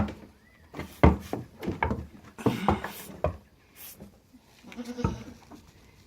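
A dairy goat bleats repeatedly while being milked during morning chores, several loud, wavering calls close to the microphone with short pauses between them, alongside faint shuffling and knocking sounds.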